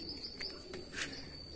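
Two prized pet songbirds kept under a cage cover give faint, brief chirps and tweets against a quiet, hissy background, with no voices.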